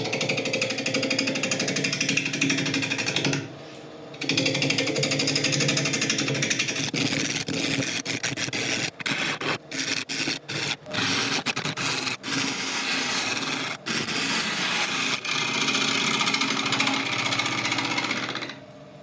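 A wood lathe spins a burl blank, reaching about 900 RPM, while a tool flattens its base. A loud, continuous rough roar of cutting is broken by a pause and many brief dropouts where the tool lifts off. No one speaks.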